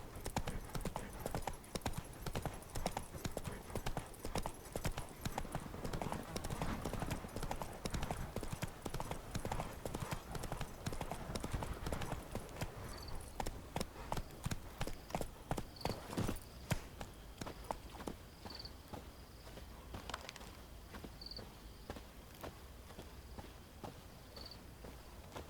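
In The Witcher 3, the horse Roach clip-clops along at a steady trot, its hoofbeats close and regular before thinning to slower, sparser steps. Crickets chirp faintly behind them.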